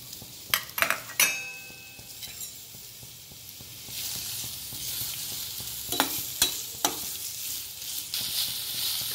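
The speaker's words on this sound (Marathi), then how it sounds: "2 मिनिट कांदा परतून घेऊ आपण" Onion sautéing in oil in a pan for rajma masala, a steady sizzle broken by several scraping stirs and light clinks of a spoon against the pan, close and moderately loud.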